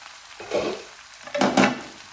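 Okra cooks in a pan over a low flame, giving two short bursts of soft sizzling and stirring, close and fairly quiet.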